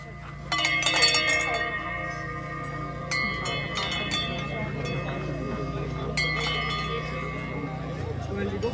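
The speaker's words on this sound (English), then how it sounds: "those are aluminium bowls which bring the aluminium sounds and also the temple bell sound." Aluminium singing bowl swung slowly, giving a sustained temple bell-like metallic ringing with layered tones and soft re-struck accents, steady and fairly close throughout.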